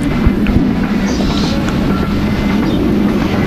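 Barendra Express passenger train running steadily, heard from inside as a continuous loud low rumble with faint rhythmic rail clatter and no talking.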